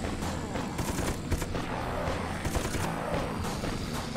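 A machine gun turret fires in the Dead Sky video game, a rapid rattling stream of shots with scattered louder bursts over dense game noise, steady for several seconds.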